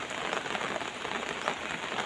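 Morning rain falls steadily in a dense, even hiss of drops on surfaces, close and continuous with no voices.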